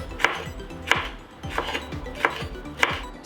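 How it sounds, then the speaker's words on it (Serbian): Two hot chili peppers being sliced into rings on a cutting board for a tomato preserve: five crisp, evenly spaced knife chops with faint board knocks between them, close up and alone. "Sada ću iseći 2 ljute papričice."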